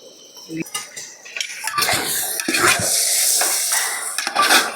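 Chicken is sautéed in a large pot for village-style biryani with ginger-garlic paste and tomato, producing loud stirring, clanking of a metal ladle against the pot and a rising sizzle up close.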